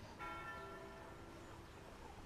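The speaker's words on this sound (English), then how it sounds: "I like the bells." Church bells ring faintly in the distance, a single resonant toll with a long humming decay over low ambient noise.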